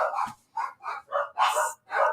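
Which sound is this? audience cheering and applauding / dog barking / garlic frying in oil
dog barking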